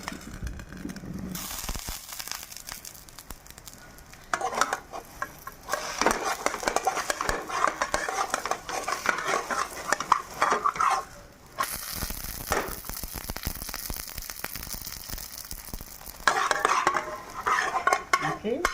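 Sweet jaggery and wheat-flour appalu cakes roast in a covered pan, with a soft crackling sizzle broken by clattering pan and lid handling and utensil scrapes at close range.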